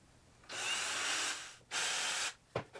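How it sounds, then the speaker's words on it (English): A power drill whirs in two sustained bursts, the second shorter, followed by a brief clunk, close and loud in an otherwise quiet space, while building a cuckoo clock. "We'll drill and put screws."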